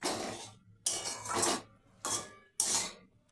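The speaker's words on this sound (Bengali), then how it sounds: "এবং আলুটাকে আমি এখানে ভালোভাবে কষে নিচ্ছি।" Potatoes in spices are stirred and fried in a pan, heard as four distinct scraping strokes of a spatula against the metal, each burst separated by a short quiet gap.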